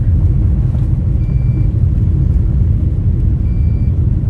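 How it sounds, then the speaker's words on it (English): Two brief high electronic beeps, spaced a couple of seconds apart, sound faintly over a steady low road rumble from inside a moving vehicle. "What's that beeping?"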